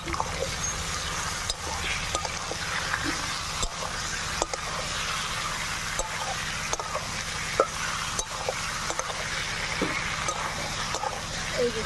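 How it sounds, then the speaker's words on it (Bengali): Chicken frying and being stirred with onion, ginger, garlic and dried chili paste in a pan, a steady close sizzle broken by regular scraping clicks of the spoon. "এই যে পেঁয়াজ আদা রসুনের সাথে নাড়াচাড়া করে নিলাম।"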